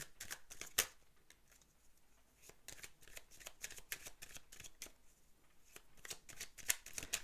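Belline oracle cards being shuffled, a close, quiet series of crisp riffling flutters and soft slaps repeating irregularly, with no talking.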